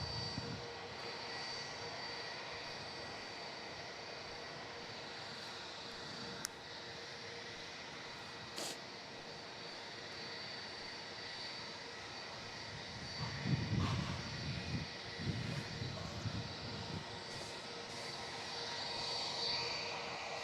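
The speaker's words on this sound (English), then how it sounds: "coming in from Doha, 777-300ER" Qatar Airways Boeing 777-300ER arriving at Melbourne Airport from Doha gives a steady, distant jet roar with a faint rumble that swells slightly partway through, heard alone without talk.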